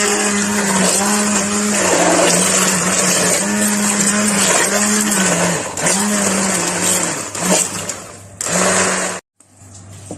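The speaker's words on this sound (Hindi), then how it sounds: "अब मैं इसको ब्लेंड करती हूँ।" An electric blender whirs through tomatoes for homemade ketchup, a loud, steady motor drone pulsing in a regular rhythm as the blade churns, then cutting off abruptly near the end.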